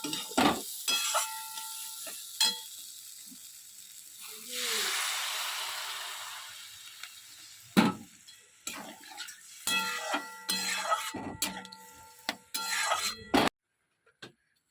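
Potato curry with tomato and peas cooking in a pan, heard as bursts of sizzling and stirring scrapes with a sustained hiss midway, fairly close and moderately loud, with no one speaking.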